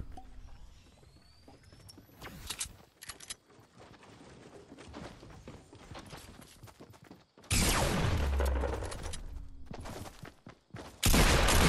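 Sniper gunfire in the Fortnite video game during a 2v2 tournament match, heard as sharp, loud broadband shots, one around the middle and another near the end, over quieter in-game rustling and clatter.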